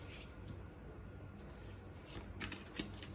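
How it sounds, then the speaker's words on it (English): Tarot cards being pulled from a deck one at a time, with soft papery slides and light taps that stay faint and close, with no talking. "What I like to do here is I like to pull another 4 cards."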